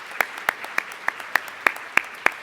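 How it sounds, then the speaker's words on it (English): Sparse, evenly spaced claps, about three per second, ring out after a campus leadership panel, sounding like only a few hands clapping in a quiet room. "Another round of applause for our panelists."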